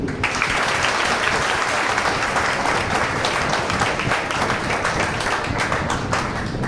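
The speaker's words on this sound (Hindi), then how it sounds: "सबसे जोरदार तालियां होनी चाहिए आप सभी के लिए" Seminar audience giving loud, dense applause in a hall, many hands clapping continuously and close for several seconds, with a faint crowd murmur underneath.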